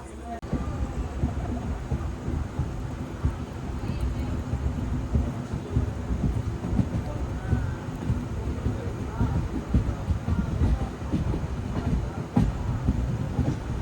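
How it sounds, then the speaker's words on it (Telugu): An Udaipur to Mumbai superfast express train running after departure, with a steady rumbling roll and rhythmic wheel clatter heard from inside the carriage, continuous and moderately loud throughout. "బయలుదేరింది బండి."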